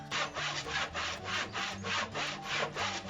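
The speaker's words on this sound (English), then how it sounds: "Now I just need to cut my timbers to shape." Hand saw cutting through a 10 by 20 centimetre treated timber sleeper, steady rhythmic back-and-forth strokes, close and clear with no talking.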